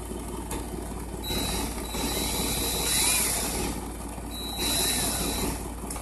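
A small metal fishing swivel being clicked closed, up close, while building a five-core loop rig, producing short ratcheting clicks and faint high ticks over a steady low background hum.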